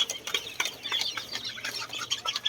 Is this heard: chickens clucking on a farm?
yes